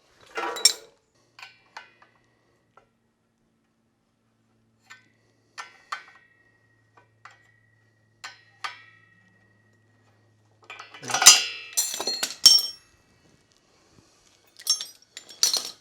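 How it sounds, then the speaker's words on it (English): Metal jaws of a gear puller clinking and clicking as they are flipped around and adjusted during Porsche 915 transmission work, with sparse small taps and a brief louder cluster of metallic rattles, near and quiet. "I'm going to flip these jaws around and see if I can't"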